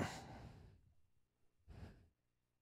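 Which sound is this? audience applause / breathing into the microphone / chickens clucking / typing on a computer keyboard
breathing into the microphone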